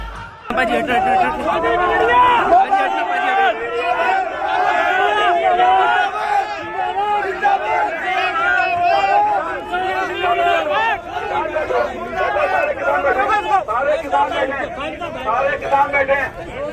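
A large crowd of farmers shouts protest slogans against the media, with loud massed voices calling out together and a continuous babble of chatter.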